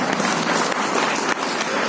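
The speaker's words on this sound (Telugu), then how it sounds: "చప్పట్లు కొట్టి మనం దేవుని మహిమపరుస్తాం" Church congregation clapping hands in praise to God, a dense, steady, close roar of many hands clapping together with no pause.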